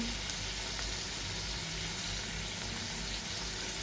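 Maggi ingredients fry in a pan with a faint, even sizzle that holds steady without breaks for a few seconds.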